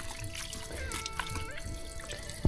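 Water trickles from a spout used for washing cups and bowls in a traditional Pakoh village of bamboo houses. The faint, continuous flow ends in a sharp knock.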